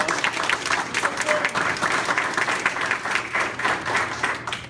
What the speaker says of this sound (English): Giving a round of applause.